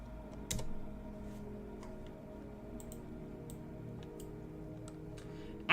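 Typing on a computer keyboard: a few quiet scattered key clicks over a low hum, with a louder knock near the start and a sudden loud thump at the very end.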